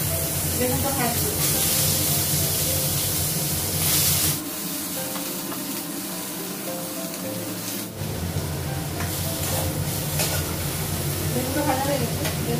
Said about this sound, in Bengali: বেগুনটা ভাজবো।